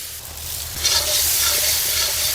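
Whole garlic cloves, bay leaf, cumin, turmeric and onion hit hot oil in a kadai, a loud close hiss that swells suddenly and holds as a dense, even sizzle.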